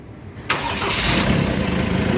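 A Ford Transit diesel van engine with a clogged exhaust cranks and catches with a sudden burst, then settles into a loud, steady rumbling idle.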